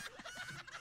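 A chicken clucks in short, close, repeated bursts, loud and alone, with no talk over it.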